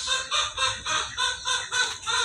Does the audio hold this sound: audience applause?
no